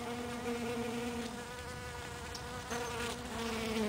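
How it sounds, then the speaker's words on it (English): Close, continuous buzzing rises from a crowd of bees working four cactus flowers outdoors under a cloudy sky, and the droning hum holds steady throughout. "A lot of bees for 4 flowers."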